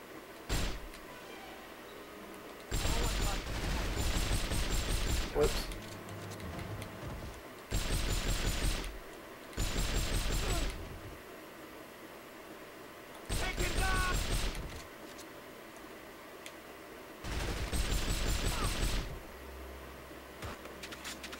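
Bursts of automatic gunfire in James Bond 007: From Russia with Love, several sustained rattling volleys lasting a second or two each, loud and separated by quieter gaps with low ambient hum.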